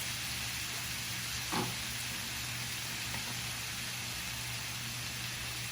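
Steady sizzling of lechon being sautéed in a pan, a soft, even hiss with a constant low hum beneath and one brief knock partway through.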